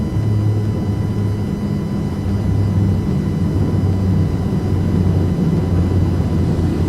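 Steady engine roar and whir of an aircraft taking off in the X-Plane 11 flight simulator, a continuous loud drone with a low throbbing hum running throughout and no voices.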